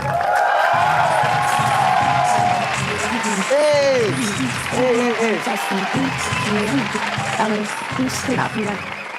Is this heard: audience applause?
yes